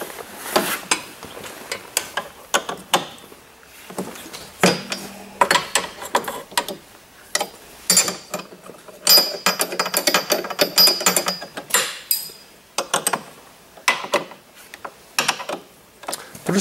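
Wrenches turning bolts while adjusting a snowmobile's ski alignment: irregular metallic clicks, ratcheting and clanks in short bursts, close by, with no talk.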